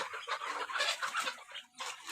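Many chickens in wire cages cluck and squawk close by in a dense, continuous chorus, with brief dips between bursts.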